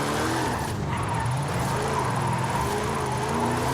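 Tires squealing and skidding as a car drifts sideways in the racing game Forza Horizon 5, played on a Fanatec ClubSport RS steering wheel; a continuous hiss of rubber over a quiet, low engine.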